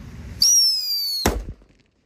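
A Black Buster firecracker goes off with a loud rising whistling shriek lasting under a second, then cuts off in a sharp bang that fades quickly into silence.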